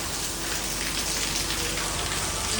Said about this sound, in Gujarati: જો કેવો વરસે છે